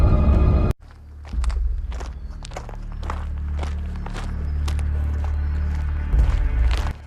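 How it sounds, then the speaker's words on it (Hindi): An ox pulling a bullock cart at night plods forward in steady, close footsteps, with soft dull thuds repeating at a regular pace over a low continuous rumble. "अपने कदमों की आहट थोड़ा धीमी करो, नहीं तो वो सुन लेगा"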